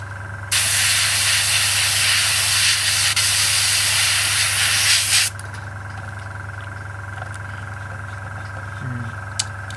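Airbrush air hissing loud and steady from a compressor while spraying paint onto a Hasegawa 1/48 Messerschmitt Bf 109E-3 scale model, lasting about five seconds and then cutting off abruptly, leaving a low hum.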